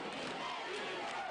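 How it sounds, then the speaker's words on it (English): A loud, sustained crowd roar from the stands at a high school football game as the Warren Central defense faces third down, a steady dense wash of cheering voices with no break. "Crowd is getting loud."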